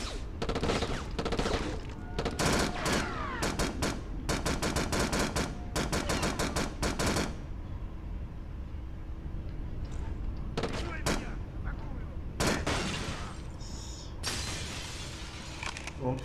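Rapid volleys of gunfire in a PS2 shooter game, automatic bursts in quick repeated clusters, loud and close, with brief pauses between strings of shots.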